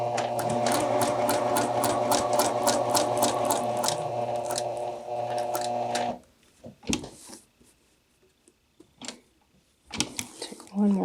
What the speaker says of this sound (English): and I'm going to stitch all the way to this corner and pivot.